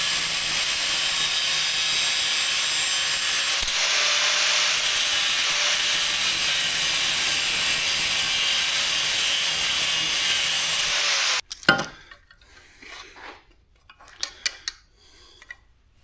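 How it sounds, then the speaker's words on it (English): Saw cutting off excess tubing and long screws on a scrap-built camera jib, a steady loud continuous rasp for about eleven seconds before it stops, followed by a few faint clinks and handling noises. "I just need to cut off this excess tubing, cut off these long screws"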